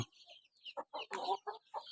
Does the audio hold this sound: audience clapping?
no